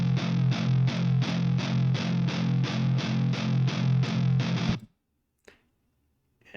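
Heavily distorted electric guitar loop from a metal track, played back without time correction: a loud, steady run of evenly pulsing chugged chords for about five seconds, then an abrupt stop into near silence with a faint click.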